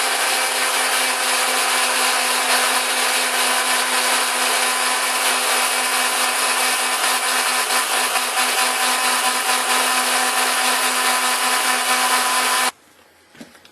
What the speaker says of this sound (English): now I'm just cleaning up the sides with a piece of 120 grit sandpaper